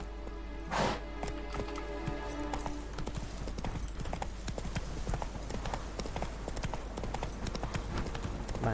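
Roach, a horse in The Witcher 3, gallops along with a constant rapid clatter of hooves over steady game music and ambience, with a brief whinny-like burst near the start.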